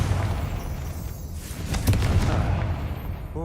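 A Confringo blasting spell goes off in a video game, releasing a loud, sustained roar of blast noise that rumbles steadily throughout with a brief swell partway through, and no speech.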